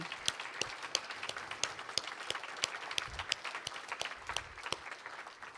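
An audience at an artist talk gives enthusiastic applause for Tomashi Jackson. Sharp individual claps stand out over a soft, sustained bed of clapping heard from some distance.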